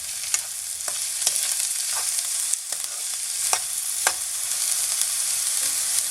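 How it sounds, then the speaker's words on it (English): A potato fry (aloo bhaji) with halved green chilies sizzles in a pan while a utensil stirs it, scraping and clicking irregularly over the steady frying hiss. "Gonna give it a good mix."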